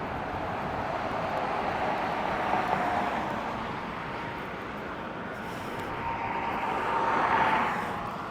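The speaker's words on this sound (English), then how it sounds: "quite a bit of traffic going across the bridge" Traffic crossing the Ringling Bridge in Sarasota, Florida, heard as a steady broadband roar of passing cars, swelling as a louder vehicle approaches near the end, with open outdoor air and no talking.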